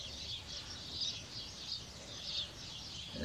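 A pet robin chirps in soft, repeated high calls spread across a few seconds, faint against a steady background hiss.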